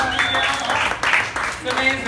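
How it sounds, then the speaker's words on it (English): Audience clapping in a pub during a stand-up comedy set, a steady burst of applause lasting about two seconds with bright, dense hand-claps and some crowd noise. "let's round of applause."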